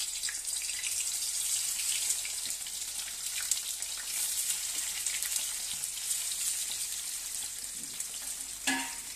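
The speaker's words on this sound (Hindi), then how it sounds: "तेल हमारा गर्म हो चुका है, डालो मम्मी आलू। ये देखो मम्मी आलू डाल दिए" Potato pieces fry in hot oil in a kadhai, a steady bright sizzle crackling evenly throughout, close and alone with no voices, and a brief clatter of stirring near the end.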